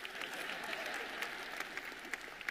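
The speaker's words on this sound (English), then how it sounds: "Y'all are clapping because you didn't have to come up here." A church congregation claps together, a dense, even patter of many hands at moderate distance that keeps going steadily, with a few murmuring voices underneath.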